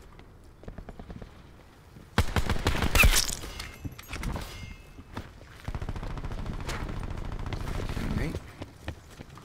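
Assault rifle fire in Call of Duty Black Ops 4 hardcore mode: a loud, close burst of rapid shots, then further gunfire bursts, with a player briefly speaking.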